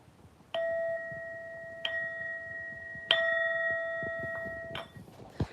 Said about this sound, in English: You get a bell for entering the stream